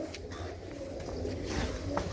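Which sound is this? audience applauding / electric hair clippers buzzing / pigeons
pigeons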